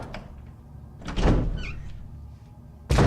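A door opens in Resident Evil HD Remaster with a loud wooden thunk and creak swelling in the middle, followed by a second sharp sound at the end.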